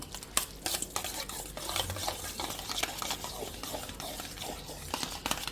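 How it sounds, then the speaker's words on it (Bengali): Yogurt being stirred into a dish in a pan: continuous scraping and stirring with light clinks of a utensil over a soft background sizzle, close up. "এবার এই দইটা আমি এর মধ্যে ঢেলে দেবো দিয়ে এটাকে একটু নেড়ে নেব"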